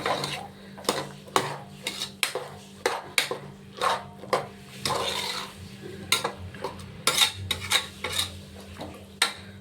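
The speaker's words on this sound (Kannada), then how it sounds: "ಮತ್ತು ರುಬ್ಬಿರೋ ಪೇಸ್ಟ್ ಹಾಕೊಂಬಿಡೋಣ" A spoon stirs ground paste into vegetable pulao in a metal pan, scraping and clinking against the sides in quick, irregular strokes, close and fairly loud over a faint background hum.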